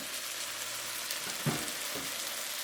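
Chicken thighs simmer in an onion and garlic sauce, giving a steady close bubbling sizzle with a few soft pops and stirs. No one speaks.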